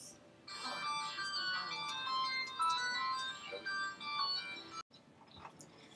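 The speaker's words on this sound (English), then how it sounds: "my phone just rung" A mobile phone ringtone plays a bright, tinkling melody for about five seconds, fairly close and clear, then cuts off abruptly with a faint trailing sound after.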